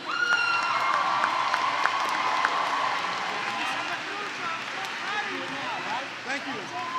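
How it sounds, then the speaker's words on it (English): A crowd at a 2023 high school graduation applauding and cheering for senior choir members, dense clapping with whoops and excited voices, steady and fairly loud throughout. "Let's give them a huge round of applause."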